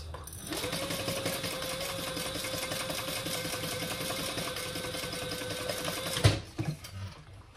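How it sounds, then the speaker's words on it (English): A sewing machine stitches straps onto a tote bag in one steady, continuous run of fast mechanical whirring for about six seconds, close and alone, then stops with a few soft clunks. "All right, let's just sew these on."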